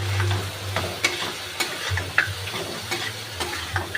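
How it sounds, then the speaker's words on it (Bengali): Mutton cooked down with yogurt in a pan for a curry gives off a soft, steady sizzle. Intermittent scrapes and ticks from stirring break through it, fairly close and at moderate volume, with no talking. "দইটা দিয়ে আমি ভালো করে কষে নেব, যতক্ষণ না দইটা থেকে তেলটা বেরোচ্ছে।"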